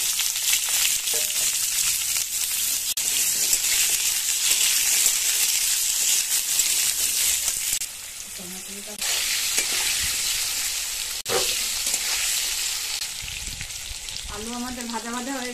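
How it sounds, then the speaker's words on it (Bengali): Potatoes fry in hot oil in a pan with cumin and bay leaf for a katla fish curry, giving a steady, loud sizzle with occasional stirring scrapes and brief faint voices. "আলুটা ভেজে নেব।"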